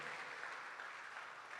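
Church congregation applauding during a sermon, a sustained even roar of many hands clapping at moderate volume with no voices over it.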